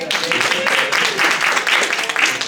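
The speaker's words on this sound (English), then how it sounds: "let's give them a round of applause" Audience applause at an intimate Magic Castle magic show, a short, fairly loud patter of clapping that swells and dips in uneven bursts over a couple of seconds.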